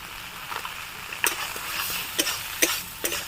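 Soybean chunks are stirred in a frying pan, with a spatula scraping and clacking in irregular strokes over a soft, steady sizzle close by, and no voices.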